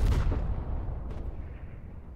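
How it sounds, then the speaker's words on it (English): Artillery shell impact in the war video game Foxhole, a single heavy boom at the start that rolls off into a long low rumble, close and loud, with a faint metallic tick later. "just a lot of artillery shells landing on them"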